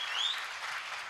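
Audience applause at a live stage program in Hong Kong, with a dense, steady wash of clapping from a crowd, even in loudness throughout with no voices.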